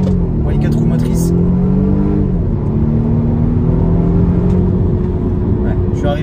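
Volvo V60 T8 hybrid estate with four-wheel drive accelerating from 0 to 100 km/h, a loud steady engine drone with gradually rising pitch heard from inside the cabin; someone talks over it.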